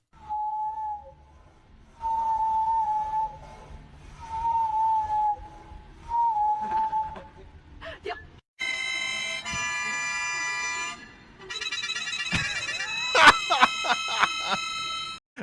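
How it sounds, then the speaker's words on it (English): A walrus whistles in a series of four sustained, steady tones with brief pauses between them, loud and close, before other harmonic noises take over. "Why are walruses allowed to whistle?"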